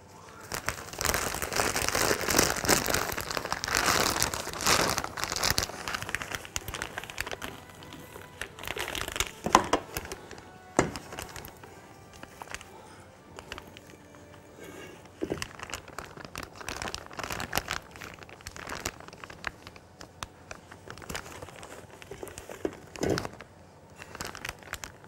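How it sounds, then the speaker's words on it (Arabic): Pastry dough for Egyptian bamia sweets being scooped into a plastic piping bag: long stretches of close crinkling and rustling plastic with soft wet squishes and a few sharp clicks, no talk. "هناخدها نحطها في كيس حلواني"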